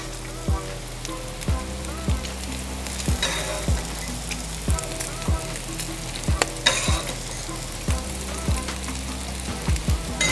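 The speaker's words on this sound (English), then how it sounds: "I'm gonna grab some of this bacon grease and put it on our potatoes" Potatoes fry in bacon grease on a Blackstone flat-top griddle with a loud, steady crackling sizzle, punctuated by regular rhythmic spatula taps roughly every half second over a constant low hum.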